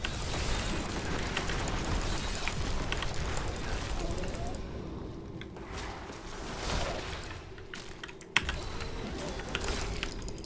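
Computer keyboard keys hammered rapidly during a hardcore multiplayer Diablo 3 Reaper of Souls session, a steady clatter of typing mixed with game effects and voices, one sharp click near the end.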